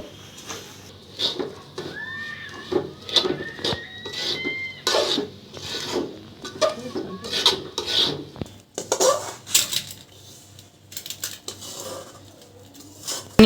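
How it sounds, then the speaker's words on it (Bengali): A spoon scrapes and stirs sesame seeds and peanuts through thickened jaggery syrup in a pan, making irregular raspy rubbing strokes and clicks, close and fairly loud, with no talking. "তিলগুলা দিয়ে দিতেছে, এই যে মিশাই নিবে, সাথে বাদামও দিয়ে দিল।"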